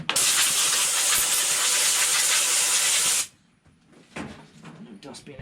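Compressed air blasts dust off a Ryobi pressure washer carburetor in a loud, continuous hiss lasting about three seconds, then stops, leaving faint handling noises.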